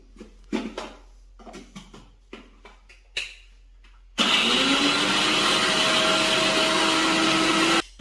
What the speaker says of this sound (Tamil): இஞ்சி பூண்டு அரைச்சிக்கலாம்.